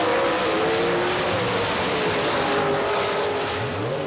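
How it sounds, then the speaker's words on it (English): A pro stock drag racing car called the Home Wrecker makes a full run at the 1984 IHRA Spring Nationals in Bristol, a loud, continuous engine roar with rising gear-change sweeps, no voices over it. "Let's see what the Home Wrecker will do for his wrecker, Mr. Alderman."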